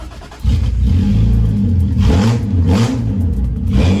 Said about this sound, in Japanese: でもエンジンはねめっちゃいい音するんでかけようか